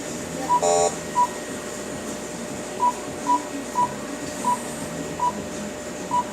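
A keypad beeps as a phone number is punched in at a shop checkout, one short burst of tones followed by evenly spaced single beeps over low background hum.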